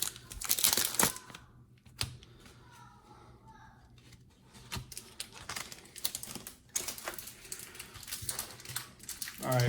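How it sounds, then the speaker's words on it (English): A foil pack of 2014 Press Pass Dale Earnhardt Jr. trading cards is torn open up close, with sharp crinkling and ripping bursts separated by quieter rustling handling. "Plus I open another pack."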